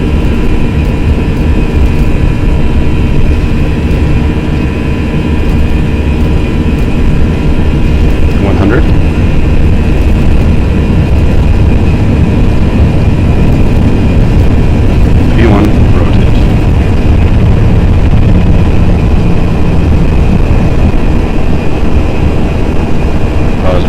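Airliner jet engines of an FSLabs A320-X in the Prepar3D flight simulator spooled up to takeoff thrust for a Lufthansa flight, a loud steady broadband roar with a constant low rumble, faint talk beneath.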